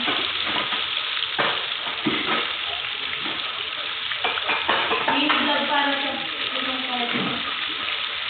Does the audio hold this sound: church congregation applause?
no